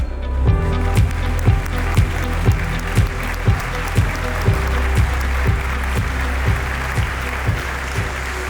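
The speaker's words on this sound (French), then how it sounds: "Merci de faire un tonnerre d'applaudissements à notre présentatrice, Manuelle Pernou." Award ceremony audience for an energy-transition trophy event applauding over a loud, steady thumping music beat, the clapping spread through a large room and partly masked by the rhythmic pulses.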